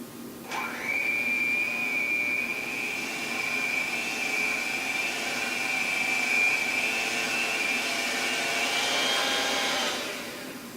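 An electric mixer runs at low speed through carrot cake batter with carrot and pineapple, a steady whirring motor hum with a thin whine that spins up, holds for about ten seconds, then winds down.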